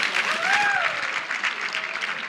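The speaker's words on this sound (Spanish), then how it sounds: "Vamos a darle un aplauso a la esposa." A church congregation claps for the preacher's wife during a sermon, a steady mass of applause with a faint tonal whistle or voice rising briefly over it early on.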